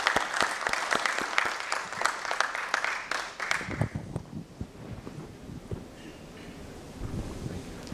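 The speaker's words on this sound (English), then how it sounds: "Can we have a big round of applause for Mr." Applause from a corporate presentation audience, dense clapping that fades out after a few seconds into quiet room noise.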